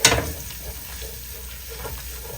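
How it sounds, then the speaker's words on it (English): Onions and garlic sautéing with tomato paste for a beef stew: an opening clatter as the paste hits the pan, then a continuous close, moderate sizzle with a faint stir. "We're going to allow them to saute for about 30 seconds."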